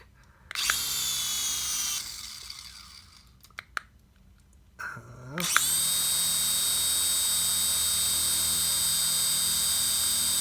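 A Spider-Man toy drone's propellers whir in a high, buzzing whine, spinning briefly, stopping, then starting up again and running steadily and loudly, with a person talking around it.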